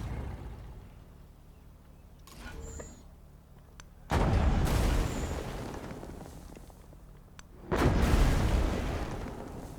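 Artillery fire in the strategy game Civilization 7, two heavy booms, each a loud broadband blast with a long rumbling decay, the second arriving about four seconds after the first over a low background hum.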